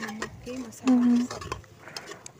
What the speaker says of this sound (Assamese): পেষ্টখিনি লৰাই দিয়ে যেতিয়া ৰংচন হয় তেতিয়ালৈকে অলপমান লৰাই দিব